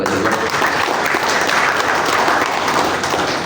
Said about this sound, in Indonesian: Kita kasih tepuk tangan untuk Forkopimda Kota Cilegon.